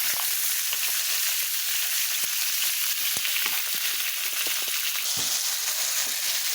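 Taco meat and onions browning in hot oil give a close, steady sizzle, a dense crackling hiss with occasional sharper pops and stirring clicks, no voices.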